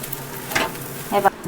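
Sabudana khichdi roasting in a pan, giving a soft steady sizzle with two brief scraping stirs, close and at moderate level, with no one speaking.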